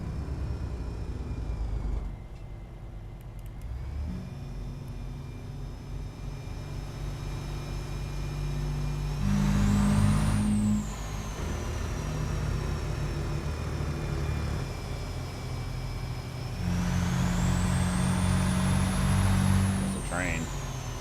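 A Kenworth-style heavy truck engine in American Truck Simulator, an Argosy hauling a 39K load to Wyoming, droning steadily with gear-change surges and rising revs, low and continuous under occasional talk.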